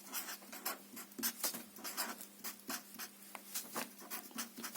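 A pen sketches a potentiometer symbol with three legs on paper, making a quiet, close series of quick scratchy strokes with short pauses between them.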